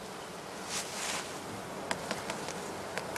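Honey bees buzz steadily around straw skep hives at a heather apiary, a soft continuous drone with a few louder passes close by and brief sharp ticks near the end.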